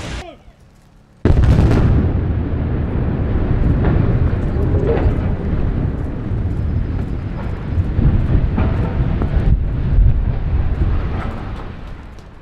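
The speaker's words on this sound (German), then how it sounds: "Damals wurde die Brückenhälfte Nord gesprengt." Demolition blast bringing down the north half of a road bridge: after near quiet, a sudden loud explosion erupts into a long, heavy rumbling roar that stays strong for over ten seconds.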